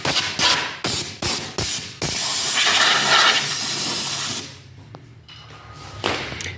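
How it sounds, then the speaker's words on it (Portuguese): Compressed air blasts through a seized compressor during cleaning, a series of sharp short bursts followed by a longer sustained hiss that drops away into quieter clicks and a final short puff. "Finalizamos aí com um pouco de ar comprimido."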